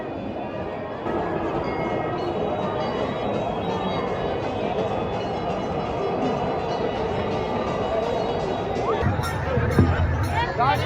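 A huge, dense crowd at Sangam Ghat during the Maha Kumbh Mela 2025, a steady loud wash of overlapping voices and hubbub that holds throughout, with a brief rumble near the end.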